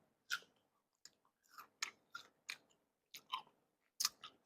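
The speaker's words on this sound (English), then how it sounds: "I have a mango here, so if you hear me chewing" Someone chews a mango close up in a quiet room, with a run of soft, wet crunching bites spaced irregularly about half a second apart.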